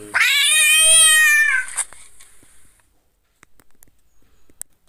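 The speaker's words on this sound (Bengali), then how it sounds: "শুনতে পাচ্ছেন বিড়ালটার আওয়াজ কিন্তু শুদ্ধ করছে।" A cat meow played from an augmented reality app: one long, loud, drawn-out wailing meow lasting over a second, then quiet with faint small clicks and taps.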